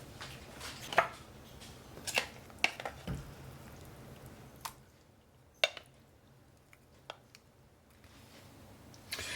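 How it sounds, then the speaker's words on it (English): Zucchini being chopped on a cutting board into pieces about three-quarters of an inch thick, with irregular crisp knife strikes separated by pauses, fairly close and quiet, and no speech. "when we chop up the zucchini, usually keep them about 3/4 of an inch or so in diameter"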